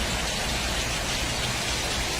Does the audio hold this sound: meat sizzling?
no